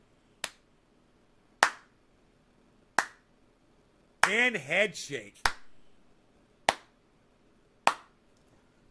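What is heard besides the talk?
slow clapping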